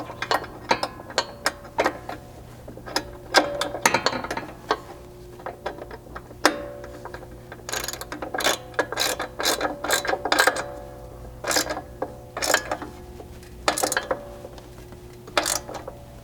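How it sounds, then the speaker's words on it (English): Ratchet wrench tightening nuts onto carriage bolts while installing a lower control arm skid plate on a Ford Bronco, in bursts of rapid metallic clicks with short pauses between them, close and clear, no talking. "I can tighten the nuts to these carriage bolts."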